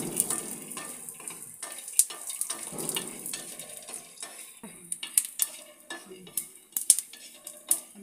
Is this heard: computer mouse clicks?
no